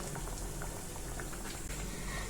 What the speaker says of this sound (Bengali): আর ডুবো তেলে কিন্তু পিঠাগুলো ভেজে নিতে হবে